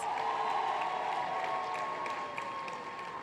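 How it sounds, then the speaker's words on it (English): At an International Conference on Family Planning gathering, an audience applauds and cheers in a sustained wash of clapping and crowd noise, moderately loud with a faint steady tone underneath. "Give yourselves a big round of applause."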